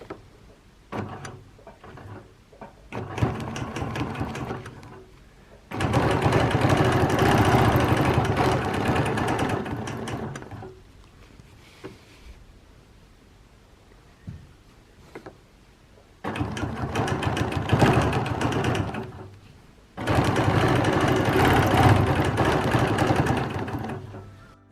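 A sewing machine stitches an edge-to-edge quilting design with lollipop and wave rulers, running in two long bursts with quiet pauses between them and no talking.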